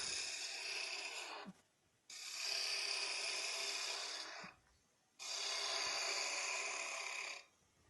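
A small wooden spindle is turned on a lathe while a tool cleans up its shape, giving loud steady scraping passes of a few seconds each, separated by brief pauses, with no talking.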